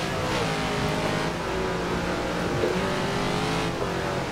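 A stock Dodge Dart driven hard in a street racing game roars loudly and steadily at high revs, a close dense engine drone with slight pitch shifts and no talk.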